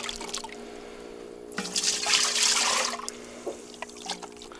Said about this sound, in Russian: Ну, добавлю литрушку воды.